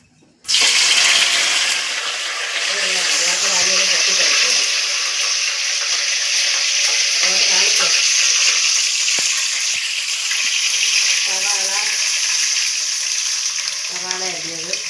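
Curry leaves dropped into hot coconut oil burst into a loud, sudden crackling sizzle that holds steady and close for the rest of the span.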